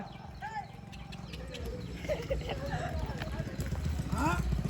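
Horse hooves clop steadily at a horse fair in Simar village over a continuous background of voices and animal noise, with a short whinny-like call near the end.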